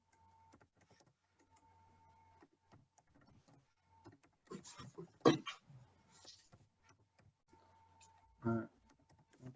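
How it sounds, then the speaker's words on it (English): Sparse keyboard clicks during an online bridge engineering conference session, faint and scattered, with a louder burst of keystrokes midway and brief murmured voices. "Typing my response."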